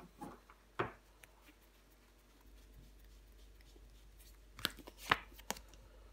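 A tarot card is laid down over another card in a spread, with a few soft slaps and shuffling flicks, close and quiet, in two short clusters separated by a quiet pause.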